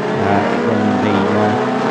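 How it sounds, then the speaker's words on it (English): Formula Renault Eurocup race car idling and pulling away toward a formation lap, a steady loud engine drone with harmonic tones holding fairly even, close by, with some background noise mixed in. "So the car's heading off onto the formation lap, ready to do battle once again"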